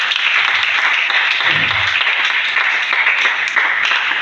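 A church congregation claps and cheers in praise of God, a dense, steady wash of applause that fills the whole moment at close range, with a brief low murmur partway through.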